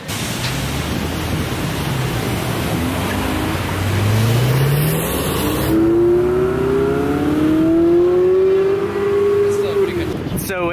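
A Ferrari sports car drives past, its engine note climbing and sweeping loudly in pitch as it nears, then easing away, over steady wind rumble.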